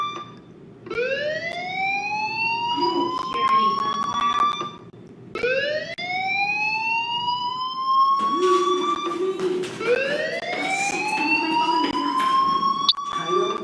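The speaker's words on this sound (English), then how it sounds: "Hey, do you hear that fire alarm?" A fire alarm rings in the Life is Strange video game, sounding as loud rising siren-like wails that sweep upward repeatedly over a constant low hum, with brief overlapping murmurs.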